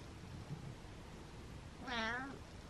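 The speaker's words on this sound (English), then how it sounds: "Meowing and purring." A hyperthyroid house cat lets out a single clear, drawn-out meow near the end over faint room noise; no purring stands out.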